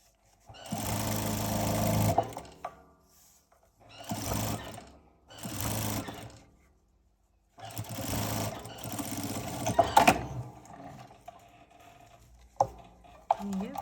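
Sewing machine stitching a cosmetic bag runs in several bursts, each lasting one to three seconds with pauses between, then a longer run near the end, close and fairly loud.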